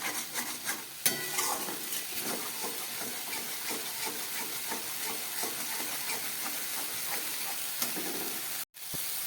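Ground cashew paste, about five or six nuts' worth, frying in oil in a pan for a paneer curry, with a steady sizzle and repeated stirring scrapes throughout and a brief break near the end.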